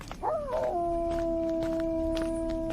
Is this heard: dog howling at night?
yes